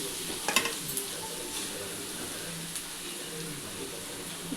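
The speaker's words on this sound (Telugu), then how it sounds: "ఇప్పుడు బంగాళదుంపలు వేస్తున్నానండి" Potatoes tipped into a hot frying pan for an egg curry with onion and grated raw mango, giving a steady close sizzle with a brief clatter early on and faint stirring scrapes.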